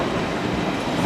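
A westbound diesel train on the Georgetown Loop Railroad climbs uphill as a steady, broad rumble of engine and rolling stock. The sound is loud and continuous, with no voices over it.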